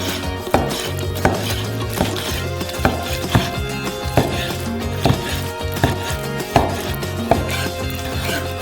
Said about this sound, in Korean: 그리고 나서 연어를 큐빅으로 썰어주세요.